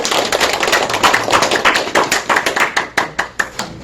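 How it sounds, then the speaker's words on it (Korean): An audience welcoming a guest poet at a poetry reading event with a burst of applause, many hands clapping loudly and densely, then thinning into a few slower, separate claps as it dies away. "박수로 맞이해 주시기 바랍니다."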